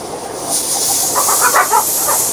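A pressure cooker vents steam in a steady loud hiss, with faint rattling pulses in the middle and no talk over it.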